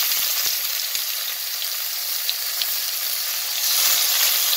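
Rice sizzles steadily in hot ghee with a bay leaf for a sweet rice pudding, a continuous close hiss with a few faint stirring clicks and a slight surge near the end.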